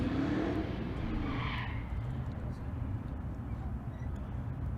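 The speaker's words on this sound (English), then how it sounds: "Fourth Gen Camaro in the right lane, finishing his burnout." Fourth-generation Chevrolet Camaro finishing a burnout at a drag strip during a race-day event at Bandimere, a loud roaring engine with tire noise fading into a steady rumble, an announcer talking over it.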